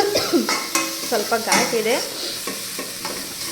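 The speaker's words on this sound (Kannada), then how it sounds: "ಸ್ವಲ್ಪ ಗ್ಯಾಸ್ ಫ್ಲೇಮ್ನ ಕಮ್ಮಿ ಇಟ್ಕೊಂಡು ಫ್ರೈ ಮಾಡಿ" Food fries in a pan over a low gas flame, with soft sizzling under repeated scraping stir strokes of a spoon, while a voice speaks briefly.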